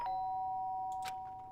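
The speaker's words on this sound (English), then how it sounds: "sound of the doorbell forced its way into my room." A doorbell in the Danganronpa video game gives one clear sustained electronic tone that slowly fades over about a second and a half, with a couple of brief soft clicks near the end.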